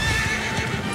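Horse galloping in Dragon Quest XI S, a steady rapid clip-clop of hooves with a whinny, loud and close, no talking over it.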